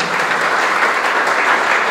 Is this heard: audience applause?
yes